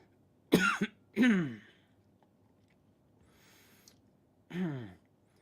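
Three harsh coughs, two in quick succession and one after a pause, close to the microphone in an otherwise quiet room.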